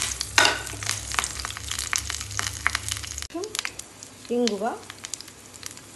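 Oil sizzles and crackles steadily for several seconds as spices go in for tempering tomato rasam, then quiets, followed by a few short sharp bursts of spluttering near the end.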